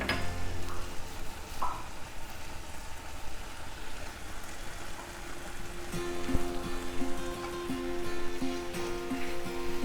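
Paneer pav bhaji with crushed kasuri methi is stirred in a hot pan, giving a continuous close sizzle with soft scraping and mixing sounds, steady throughout.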